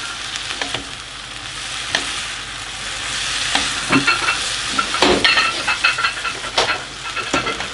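Red and green peppers sautéing in an oiled pan for noodles, a steady close sizzle with scraping stirs and clinks of a utensil against the pan, no talking.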